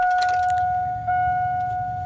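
Keys jangling briefly at the start inside a 1999-2007 Chevrolet Silverado, a short metallic rattle followed by steady electronic chime tones and a low vehicle hum, with no voices.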